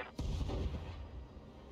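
A Thumper artillery strike in the BattleTech video game lands as a sudden deep boom, then rolls on as a sustained low rumble that slowly fades, alone with no talk.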